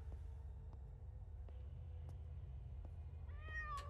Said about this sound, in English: Oh, kitty cat. What's up, kitty cat? Come here.